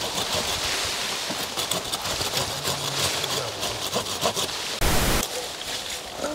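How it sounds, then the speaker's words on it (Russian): A hand saw cuts through a tree branch outdoors with steady, rhythmic rasping strokes, close and fairly loud, ending in a brief sharper burst. "Ну, давай сначала вот эту посмотрим, как она будет пилиться."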